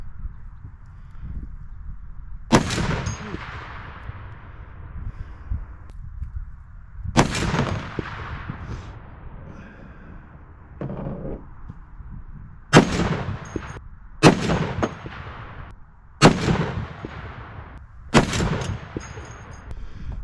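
Heavy .50 caliber rifle shots strike a concrete target outdoors, six loud separate blasts spaced a few seconds apart, each with a sharp crack and a ringing decay, over quiet wind noise.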